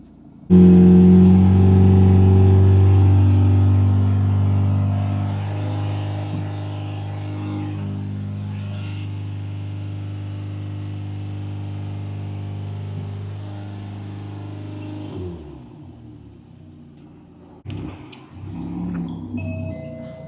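A Ferrari Roma engine runs loudly during an emissions test, a strong steady drone that slowly fades over many seconds, then drops away into quieter mechanical sounds near the end.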